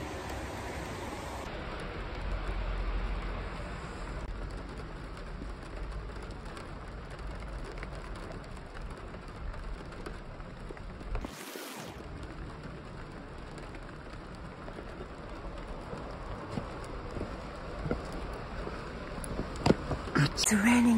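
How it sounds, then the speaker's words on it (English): Steady rain falling on a wet day in Germany, a constant hiss of drops on surfaces heard close and at moderate level, with a brief break and a few sharper drips near the end. "It's raining today."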